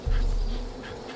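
Bees buzzing in the video game Far Cry 5, a short low droning hum that swells at the start and fades slightly over about a second, with no speech.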